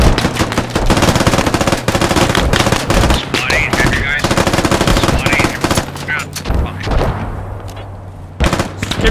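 Automatic gunfire in the game Squad, directed at a vehicle's wheels: loud, rapid bursts of shots in close succession over a busy battlefield din, easing briefly near the end before another shot rings out.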